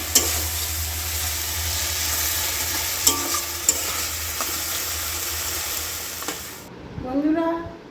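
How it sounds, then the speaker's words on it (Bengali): Chicken sautéed in a kadai with oil gives a loud, continuous frying sizzle with occasional utensil clinks; the sizzle cuts off near the end, and faint low sounds follow. "চিকেনটা কড়াই দিয়ে দিলাম"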